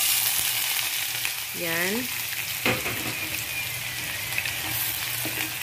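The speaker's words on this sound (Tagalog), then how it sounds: "halo-haloin muna natin ang onion habang mag-brown siya" Chopped onion sizzles and fries in a hot pan while being stirred, a steady loud crackle with a brief scrape of the spoon and a short spoken word over it.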